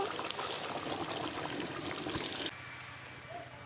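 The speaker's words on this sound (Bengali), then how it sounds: "এবার ঢেলে নেব গামলায়" Home-style desi chicken curry with plenty of oil is poured from a pan into a large bowl, a thick wet gush and splatter that stops abruptly, leaving a quiet room.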